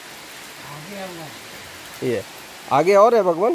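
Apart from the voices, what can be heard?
water dripping constantly at a waterfall site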